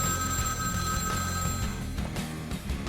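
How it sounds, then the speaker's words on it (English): A telephone rings continuously in the Vampire: The Masquerade – Bloodlines video game, a steady, moderately loud electronic trill over a constant low background hum, with no talking. "Where's the phone?"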